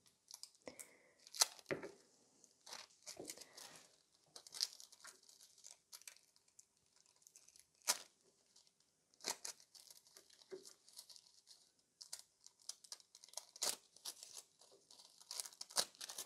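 Gold foil for nail art is handled up close, giving a run of quiet, irregular crinkles and tearing rustles with sharper crackles scattered throughout and brief silences between them.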